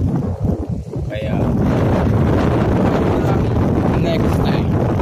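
Strong wind blowing outdoors on an onion farm, buffeting the microphone in a loud, constant roar with a few gusty dips near the start and no talking.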